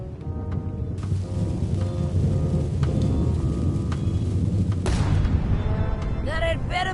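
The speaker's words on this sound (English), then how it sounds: "Ready for cannon firing." Cannon fire in the pirate adventure game Monkey Island, a loud sustained rumbling boom that rolls for several seconds and then cuts off, followed by a brief burst of game voice.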